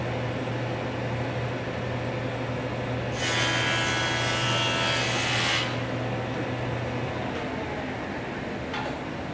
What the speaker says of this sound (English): I'm going to go back to the jointer and joint one of my edges.